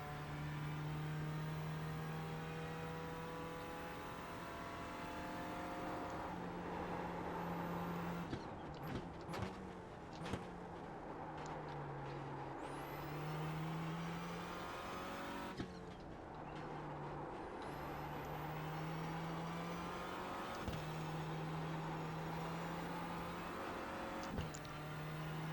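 Renault Clio race car in iRacing at Summit Point, its engine holding a steady drone through the clip with a few brief dips and shifts in pitch, loud and continuous with no talk.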